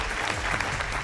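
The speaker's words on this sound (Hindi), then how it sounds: "जोरदार तालियां" A studio audience on a dance show claps loudly to welcome the judges, a dense and steady burst of applause that fills the whole moment.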